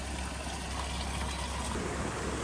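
Carbonated sour spring water trickles steadily and close at a volcanic spring in the Azores, Portugal, a continuous fizzy splashing wash without a break.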